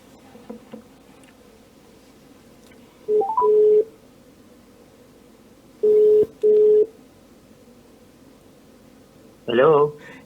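Phone call being placed: short bursts of electronic dialing tones sound in separate clusters with quiet gaps between, clear and close on the line.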